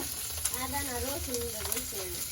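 Koi fish frying in a pan of oil, a steady close hiss and sizzle with a voice talking over it.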